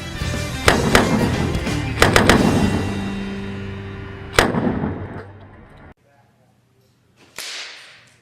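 Fast draw revolver shots ring out at a shooting club range, several sharp cracks in bursts with short echoes, followed by a quieter pause and one more distant report.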